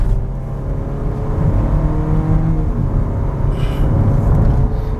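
A Hyundai Stargazer X with an IVT gearbox kicks down and accelerates on a winding road with climbs and descents, giving a loud, steady engine drone and road rumble that rise slightly, heard close and without talk.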